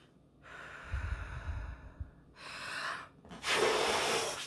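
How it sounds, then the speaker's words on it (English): Slow, deep breaths drawn in and pushed out in a calm anxiety-relief exercise: a soft, low inhale, then airy exhalations that grow to a loud, close final breath out, with no talking. "and breathing them out."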